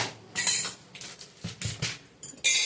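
Dry ragi and chana dal grains pour into a container in several rattling bursts, each a short patter of small hard grains striking the surface. The sound is close and moderately loud.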